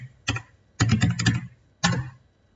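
A password typed on a computer keyboard: a few short bursts of quick key clicks separated by brief pauses, close and clear with nothing else heard.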